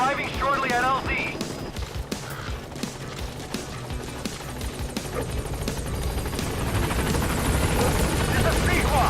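The Pequod helicopter from Metal Gear Solid V arrives at a landing zone, its rotor drone a dense, continuous roar that swells and fills the mix, with game effects and radio chatter layered over it.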